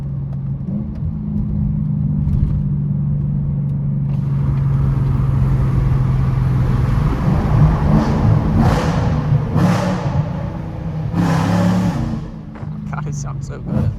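A BMW E92 M3 with about 180,000 miles growls through a steady low engine drone that builds as the car accelerates, loud and close from inside the cabin, with short hissing bursts near the end.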